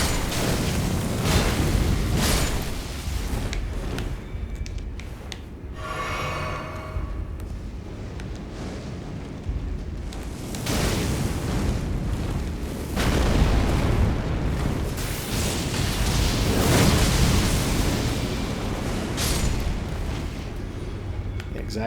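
Explosive enemies burst repeatedly during combat in the Elden Ring DLC video game, with heavy booms and blasts recurring through the stretch amid battle noise, mixed under a player's voice.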